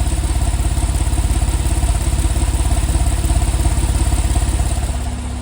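A 2009 Porsche 911 Carrera Cabriolet idles from its passenger-side dual exhaust, giving a close, steady, rhythmic burble that holds evenly throughout with no voices.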